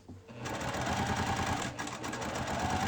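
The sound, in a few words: sewing machine chain piecing quilt pieces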